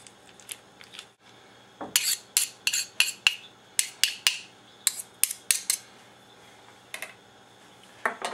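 Scissors snip open a package of spinach in a home kitchen, a series of about a dozen crisp, close cuts in uneven rhythm, with no talking.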